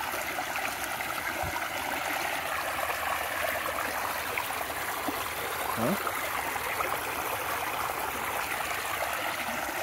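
Water splashes and runs over Xero Terraflex II hiking shoes in a continuous trickling, gurgling stream, steady and fairly close, with a brief spoken word.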